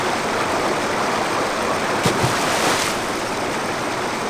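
Continuous broad rushing of water in the Indiana Jones and the Infernal Machine video game, a loud, steady wash like a stream or waterfall with a soft splash midway.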